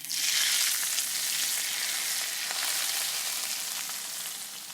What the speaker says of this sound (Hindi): जो हमने तड़का लगाया था दाल के लिए ये सारा डाल देंगे ऊपर